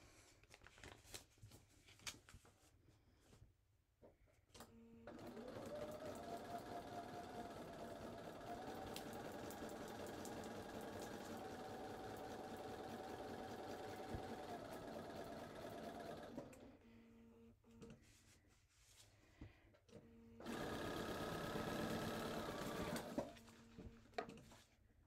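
A sewing machine stitching a New York Beauty quilt block, running in a long steady whir of about eleven seconds, pausing, then a second shorter run, close and moderately loud with handling noises between.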